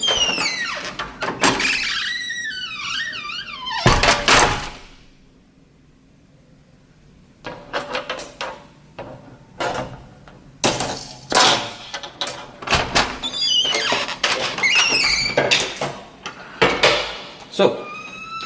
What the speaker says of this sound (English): we are able to get through a door that has a crash bar